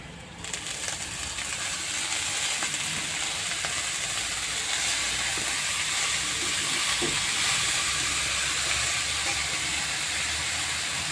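Red amaranth greens tipped into hot oil with fried onion, garlic and chopped chilli give off a loud, steady sizzling hiss that holds evenly throughout with no voices.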